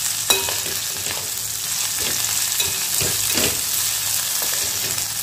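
Cluster beans (gavar) with turmeric roasting in a hot pan give a continuous, even sizzle, with occasional soft stirring scrapes and taps close by.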